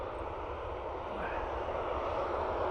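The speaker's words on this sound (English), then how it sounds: "Ryanair off to Malaga" A Ryanair jet departing Dublin Airport for Malaga roars steadily at a moderate distance, a dense, continuous engine rumble that swells slightly toward the end.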